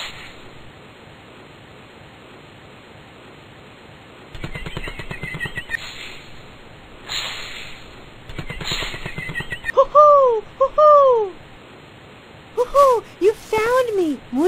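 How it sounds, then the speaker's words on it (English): Paired rising-falling owl hoots in a children's video game come in quick doublets near the end, following stretches of buzzy electronic noise and quiet background. "We have to listen for the owl's hoo-hoo to get through the forest."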